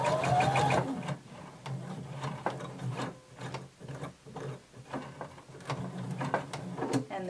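A home sewing machine stitches fabric for a bodice slowly and carefully, its needle mechanism clattering in a steady run of distinct, evenly spaced pulses, close and moderately loud.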